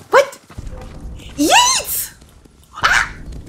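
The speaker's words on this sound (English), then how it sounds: "The Khan's attack dogs." In the video game Ghost of Tsushima, a pack of the Khan's attack dogs barks and yelps in sharp, separated bursts, loud and close, while a person shouts once between them.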